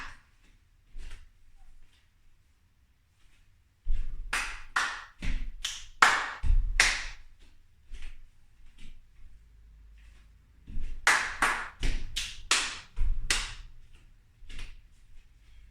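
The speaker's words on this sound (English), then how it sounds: "Step, clap, clap, step, snap, clap, step, tap." Body percussion in a rhythm lesson: two bursts of sharp claps, finger snaps, stomping steps and taps in a repeating pattern, separated by near-silent pauses. The hits are close, crisp and loud, with low thuds from the steps.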